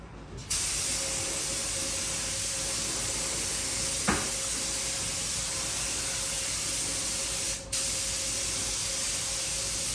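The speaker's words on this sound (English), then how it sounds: "what you guys just seen him spray is actually sealer" Sealer sprayed onto the body of a 1978 Pontiac Trans Am: a steady, loud spray hiss runs almost continuously, broken by a brief pause near the end, with a faint click partway through.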